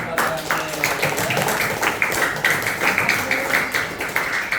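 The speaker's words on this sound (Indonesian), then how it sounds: "Tepuk tangan dulu dong" A community gathering in Lenteng Agung breaks into audience applause, a steady patter of many hands clapping with rhythmic surges, fairly close, with voices underneath.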